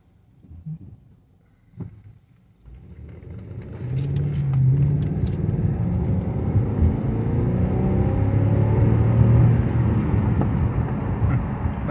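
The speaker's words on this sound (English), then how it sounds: "Alright, so we are getting ready to do a full throttle pull" A 2011 BMW 550 with the N63 engine, suffering a no-boost fault, makes a full-throttle acceleration pull: after a brief quieter start, the engine swells into a loud, sustained rumble that keeps building, with no talking.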